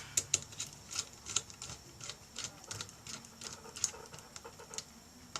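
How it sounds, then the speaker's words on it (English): Screws being reseated on an HP Pavilion DV4 laptop motherboard, a run of small sharp metallic clicks and ticks in quick irregular rhythm, close and quiet with no talking. "we're going to reseat these screws"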